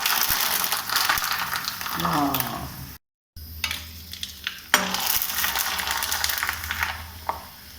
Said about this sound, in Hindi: बहुत ही ज़्यादा क्रंची हैं, इसकी आवाज़ सुनिए आप।